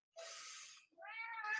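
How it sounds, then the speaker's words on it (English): Two house cats squabble indoors, letting out two drawn-out, strained meows in quick succession, the second rising into a harsher yowl, fairly close but not loud. "my cats are having a altercation."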